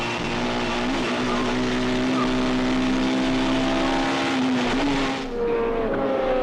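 BMW touring cars racing at Magny-Cours in the 2006 WTCC, a steady onboard engine drone holding pitch with small gear-change dips and a late shift down, loud and close, no talking.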